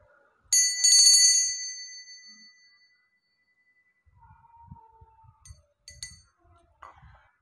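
A small bell rung once at the start of a playing-card reading, a bright clear ring decaying over about two seconds, then quiet handling sounds and a faint second chime.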